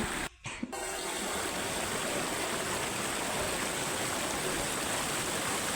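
Water flowing steadily through a rice paddy field during paddy planting, a dense, continuous rushing wash, close and loud, with a brief dip near the start.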